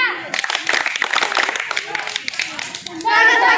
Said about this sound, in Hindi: रोज टोली स्वागत ताली बजा